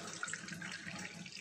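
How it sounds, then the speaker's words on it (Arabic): Hot water poured from a kettle while mixing a homemade jasmine air freshener, giving a steady, even splashing stream that is quiet and close, with no talking. "الميه ديت اهيت خدها من الكاتل وهتصبي كده"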